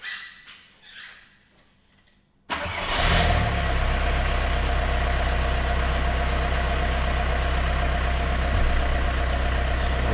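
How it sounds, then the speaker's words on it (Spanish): A car with a TDI diesel engine and a Bosch VE rotary injection pump sits quiet, then abruptly cranks and starts, settling into a loud, steady, slightly knocking idle. "vamos a arrancar el coche"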